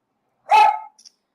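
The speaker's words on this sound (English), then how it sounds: "the dog that's staying with us likes to bark" A dog barks once, a single sharp close bark followed by a faint brief yip, alone in silence.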